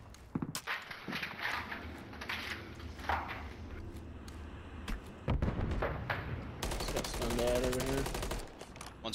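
Gunfire in the video game Call of Duty: rapid, dense bursts of shots mixed with footsteps and battle noise run steadily throughout at a fairly loud level.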